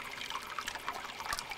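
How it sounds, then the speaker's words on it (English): Water flows into a sample container during a biological oxygen demand test, giving a faint, steady trickle with small bubbling pops close by and no voices. "there's an inflow and you can see that the bubbles are mixing in"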